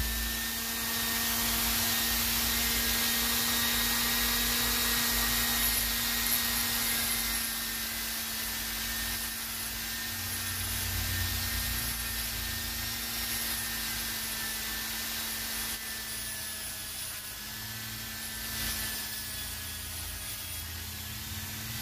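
A grinder works steadily against an Elig full asbestos brake pad lining, a continuous whining hum with a grinding hiss that holds at a fairly even level throughout, fading only slightly toward the end.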